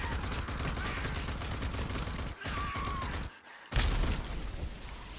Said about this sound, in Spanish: Perfecto, menudas explosiones